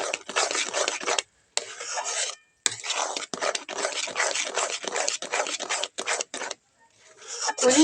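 Grated coconut paste is mixed into an ice cream base, heard as close, raspy scraping and rubbing strokes in long bursts, broken by short pauses.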